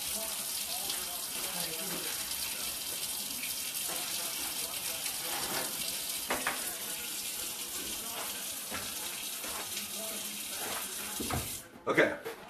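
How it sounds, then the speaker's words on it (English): Kitchen tap running steadily while hands are washed under it, a constant hiss of water close by with a few faint splashes, and a short clatter as it ends. "I'm going to go wash my hands"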